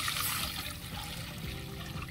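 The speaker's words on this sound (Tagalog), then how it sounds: "ilagay na nga natin yung gata" Coconut milk poured into a pot of taro leaves for Bicol laing, a steady liquid splashing and trickling that runs unbroken and fairly close for about two seconds.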